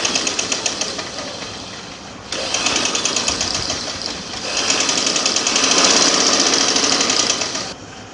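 A sewing machine stitches the collar band of a gents' shirt, running a steady, rapid mechanical rattle that stops briefly, then resumes and grows slightly louder toward the end.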